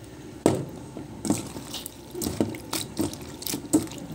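Bitter gourd (ampalaya) is rinsed under a running kitchen tap, with water splashing and gurgling in a sink in uneven bursts as the vegetable is turned and handled.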